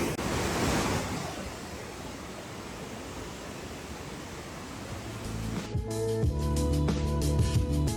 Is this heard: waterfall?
yes